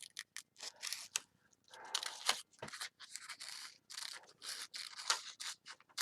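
Scissors cut paper nearby in a series of short crisp snips and slides, with irregular pauses between cuts and no talking.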